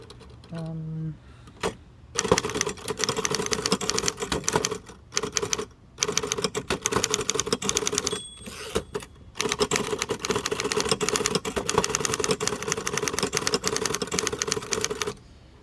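Rapid, dense keystrikes on a 1933 Underwood four-bank portable typewriter, used outdoors, clattering loud and close in bursts broken by brief pauses, with mechanical clacks and occasional bell dings and carriage noise.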